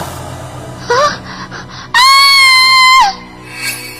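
A girl lets out a short rising cry, then a loud, sustained high-pitched scream lasting about a second before breaking off.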